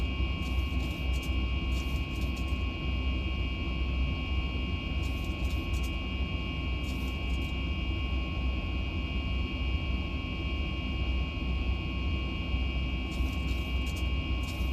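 Steady, loud jet engine roar from a Boeing 737 MAX 8 at reduced throttle in the X-Plane 11 flight simulator, a constant broadband drone with a high whine, continuous throughout with no talk.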